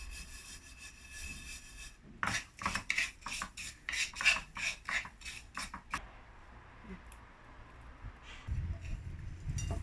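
Salt being stir-fried in a wok for salt-and-pepper shrimp, a gritty, raspy scraping that comes in a run of rhythmic strokes, fairly close and alone, before fading into quieter rustling.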